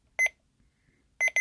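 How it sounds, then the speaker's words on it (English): An Ila talking atomic clock gives a short electronic double beep on entering its settings, a pair of bright tones heard once near the start and again at the end, clear and close in a quiet room. "you hold that the small round button down for a couple of seconds until you hear a double beep"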